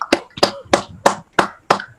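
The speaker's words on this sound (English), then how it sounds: "May I also request everyone to put a clap for Daniel for such a nice session." Participants clap during an online session, seven distinct, evenly spaced claps, sharp and close, with silence between them and no talk.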